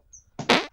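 A fart blown close into a microphone on a podcast, one short, loud, raspy burst preceded by a faint puff, alone in near silence.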